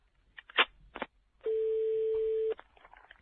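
Telephone line on a call to a town mayor: a few clicks and handset knocks, then a steady single-pitch tone holding for about one second before cutting off, with quiet line noise after.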